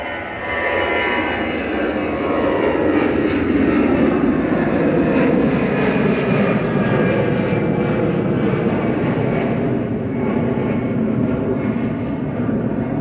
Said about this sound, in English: Here goes EasyJet 2181 to Basel. A320 Classic GEZWY.